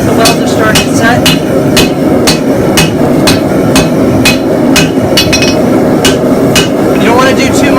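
A hammer strikes a forge-welded Damascus billet made from saw blade steel, a quick run of loud, sharp metallic blows in a fairly even rhythm over a background roar of the forge.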